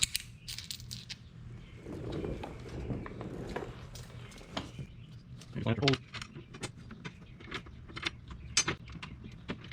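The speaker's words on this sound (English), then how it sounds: "grab 3 more of your bolts and bowl washers" Metal bolts and bowl washers jangle and clink as they are picked up during a skid plate install on a Polaris RZR Pro XP 4, a close, scattered run of light metallic rattles under someone talking.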